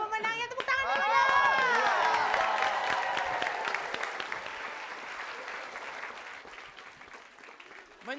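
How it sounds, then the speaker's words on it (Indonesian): A television studio audience bursts into loud applause with cheers and shouts, peaking early and then slowly tapering off into scattered clapping. "Tepuk tangan dulu dong."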